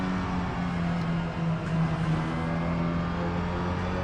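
Audi TCR race car engine sounding steadily on a warm lap, a loud, close, continuous drone with a sustained low tone and slight rises in revs, heard alone without talk.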